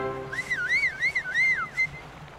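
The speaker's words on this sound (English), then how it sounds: "When the time is right, I will whistle like this." A cartoon character whistles a rising-and-falling signal call, four or five wavering swoops in a smooth melodic line, close and clear with no talking over it.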